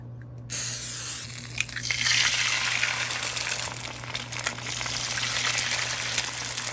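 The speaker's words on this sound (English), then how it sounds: "I'm going to fry up 2 eggs" Two eggs fry in a pan with a steady, fairly loud sizzling hiss that begins abruptly as they hit the hot surface and continues without a break, over a low constant hum.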